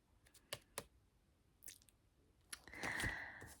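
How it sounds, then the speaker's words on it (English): Bubble Yum gum is chewed close to the mic in soft, wet, sticky clicks and squishes, scattered and quiet, ending with a brief rustle, no talking. "I'm going to be chewing bubble yum"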